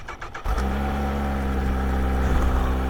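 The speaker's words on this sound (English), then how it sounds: "Busy, busy inline four." Kawasaki Ninja H2 SX SE supercharged inline-four engine firing up after a brief lull and revving hard, a loud, close, busy steady roar that swells slightly toward the end, alone without talk.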